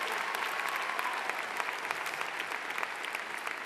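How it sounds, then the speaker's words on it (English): A graduation audience applauds steadily, dense clapping from many hands filling the hall at a fairly soft level throughout, with no voices heard over it. "Give yourselves a big round of applause."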